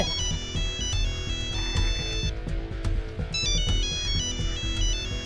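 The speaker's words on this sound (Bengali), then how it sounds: "শিখা আবার ফোন করেছে তো" A mobile phone ringtone plays a loud, steady electronic melody for an incoming call, repeating its tuneful pattern throughout with no voices.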